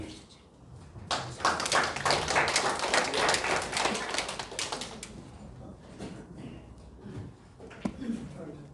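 Church congregation clapping in a run of sharp, dense claps that rise for a few seconds and then fade into scattered taps and room noise, with no speech over it.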